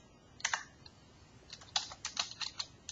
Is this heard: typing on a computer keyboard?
yes